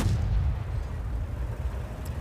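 A heavy boom from a tank destroyer cannon in a World of Tanks battle, the blast at the start rolling into a long low rumble that fades over the following seconds.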